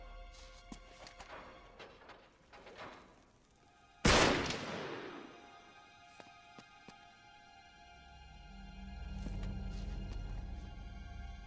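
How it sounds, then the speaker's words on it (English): A single sharp, loud gunshot blasts a lock open in Uncharted 3: Drake's Deception, cracking out suddenly mid-clip with a ringing decay, amid scattered faint clicks and a low rumble building afterward. "Back up, I'll shoot the lock."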